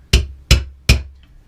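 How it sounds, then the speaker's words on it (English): A rubber mallet strikes three times at an even pace, tapping a retainer pin into a Ruger 10/22 rifle being assembled. The knocks are sharp, close and loud. "Again, rubber lock hammer."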